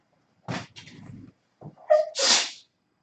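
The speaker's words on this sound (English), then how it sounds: "I'm going to sneeze." A woman sneezes once: a sharp breathy intake and catch, then a loud hissing burst at the end, close and alone with no talk.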